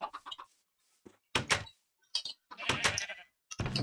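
Sheep bleating in the Minecraft video game, several loud nasal blasts coming one after another with short gaps, alongside clucking from in-game chickens.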